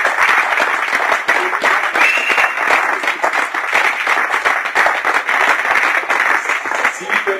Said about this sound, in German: Dafür einen herzlichen Applaus.